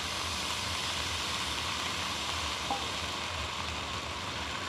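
Onions fried until browned, with cumin and ginger added to the pan, give a steady, close hiss and sizzle throughout with no talk.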